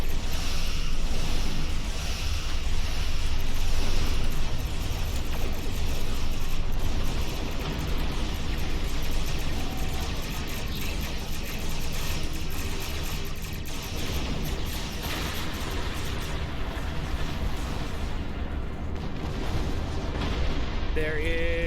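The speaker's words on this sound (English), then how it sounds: "Full spread of torpedoes. Fire. Phasers fire at will." A starship firing torpedoes and phasers in the Star Trek Online video game, a dense continuous roar of booming weapon fire and rumbling blasts, loud and unbroken throughout.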